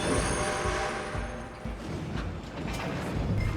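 A train rolls along in the video game Red Dead Redemption 2, a loud continuous rumble of wheels on rails with metallic squeals and rhythmic clanks, heard up close and alone.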